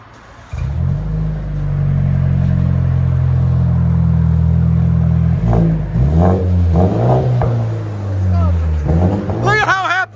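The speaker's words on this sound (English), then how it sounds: "muffler that we just cut off. So we'll let you guys hear it in a second." A 2023 BMW 330i turbo with its muffler cut off idles with a loud, deep rumble, then blips through several sharp revs near the end.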